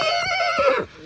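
A Kathiyawadi mare whinnies close by in one loud, sustained neigh with a wavering pitch that fades at the end.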